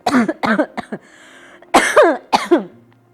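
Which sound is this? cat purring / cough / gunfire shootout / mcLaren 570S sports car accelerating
cough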